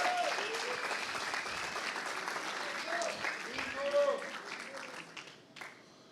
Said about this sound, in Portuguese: Uma salva de palmas para o Zique.